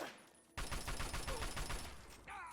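Sustained automatic fire from an assault rifle in Fallout 3 rattles in a rapid, steady burst lasting about two seconds, loud and close, then cuts off into quieter game ambience.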